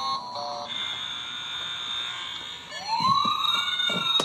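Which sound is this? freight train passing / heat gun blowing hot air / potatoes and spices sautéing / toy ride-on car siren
toy ride-on car siren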